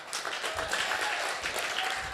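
Brief steady applause from a graduation service congregation, a dense wash of clapping at moderate level that carries evenly for a couple of seconds.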